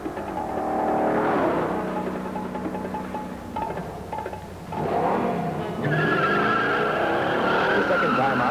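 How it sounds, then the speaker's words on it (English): A 1968 Hurst Olds launches hard at the track, its engine roaring loud and close with tire squeal as it climbs through the revs, easing briefly before surging again. "the car roared out of the hole"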